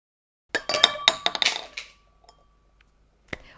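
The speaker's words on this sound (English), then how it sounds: "Now I will flick the plate with my finger with one clean motion." A plastic plate is flicked off the top of a glass and a plastic ball drops into the glass: a quick cluster of sharp clinks and clatters, close and clear, then quiet and a final small knock.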